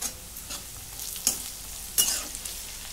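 Crispy pieces of leftover bhakri bread fry with spices in a pan, a soft steady sizzle broken by a few brief stirring scrapes.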